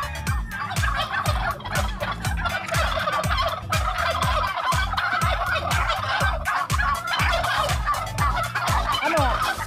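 Several turkeys gobble over and over on a goat farm, a dense chorus of loud, overlapping calls that runs continuously with no talk.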